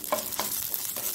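Curry leaves fry in hot oil in a pan for a Mangalorean sardine pannopkari, giving a steady close sizzle with a few crackling bursts.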